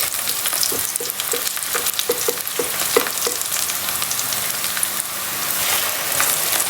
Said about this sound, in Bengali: এইতে দিয়ে দিচ্ছি আদা রসুন পেস্ট